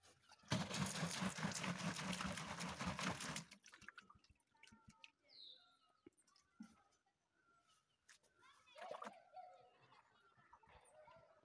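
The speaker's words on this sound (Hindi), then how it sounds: "हस्बैंड भर रहे हैं पानी।" Water rushes steadily into a container at a village water source in Bhaderwah that the panchayat built, a loud, continuous pour for about three seconds, followed by quieter scattered clinks, drips and faint background sounds.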